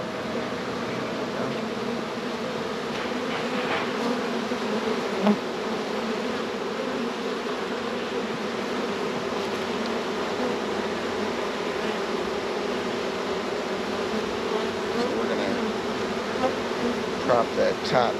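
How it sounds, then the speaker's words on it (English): Honey bees hum in a dense, steady swarm around an opened hive during early spring splits, a continuous close buzz with individual bees passing near, and a person speaks occasionally. "Oh yeah, we got all these bees too."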